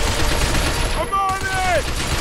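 Rapid gunfire crackles through a firefight in the video game Binary Domain, a dense continuous burst broken by a brief gap and a short tonal chirp.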